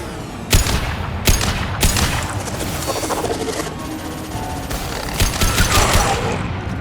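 Heavy weapons fire in Mass Effect 2: a few sharp, booming shots early, then sustained rattling bursts and mechanical clatter, loud and close with little talk.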